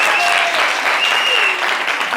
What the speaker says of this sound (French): Applaudissez pour les baoulés de Boaké.